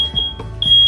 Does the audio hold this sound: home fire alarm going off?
yes